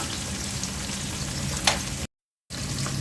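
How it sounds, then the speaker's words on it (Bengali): Chicken fries with onions and garam masala in a pan, giving a steady close sizzle with a brief sharp clatter before the sound drops out for a moment and resumes. "পেঁয়াজের সাথে মুরগিটা ভেজে নেব"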